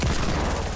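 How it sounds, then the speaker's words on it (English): Sniper fire in Fortnite comes across as a dense, loud rumble of overlapping distant shots, continuous and booming, with no voices over it. "somebody else is sniping from a different direction"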